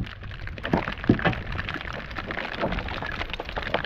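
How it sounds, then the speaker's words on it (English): Rain falls outdoors as a dense, steady patter of drops with a few louder splashes near the start, close and continuous with no talking. "the rain is coming down"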